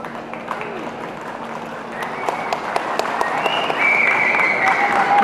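Steady applause from a large crowd at the inaugural function of an Arunachal folk music festival in Namsai fills the space, growing slightly louder toward the end, with a faint tone and some voices mixed in.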